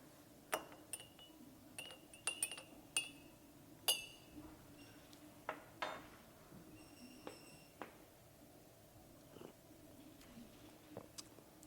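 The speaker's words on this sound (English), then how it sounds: "let me just stir it a little bit actually" A basil rum Negroni stirred in a glass gives faint, irregular clinks and taps against a quiet background.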